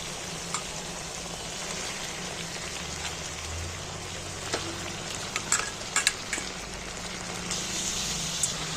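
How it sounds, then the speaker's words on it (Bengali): Washed chicken pieces go into hot spiced oil and fry with a dense, even crackling sizzle like steady rain, close by, with a few brief sharper pops and stirring clicks and no voices. "এইবার কিন্তু আমি যে মাংসটা ধুয়ে পরিষ্কার করে রেখেছি জল ঝাড়িয়ে মাংসটা আমি এইবার তুলে দিচ্ছি এর মধ্যে"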